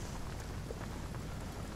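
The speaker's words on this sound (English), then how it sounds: "Should I intensify the rain?" Rain falls steadily in the fantasy video game Divinity: Original Sin, a soft, even patter and hiss with faint low rumbling underneath, quiet and continuous with no talk.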